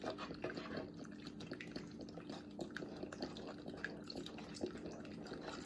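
Water trickles and drips into a pot of chili while it is stirred, a faint, soft liquid pouring with small splashes and light scraping under a quiet room tone.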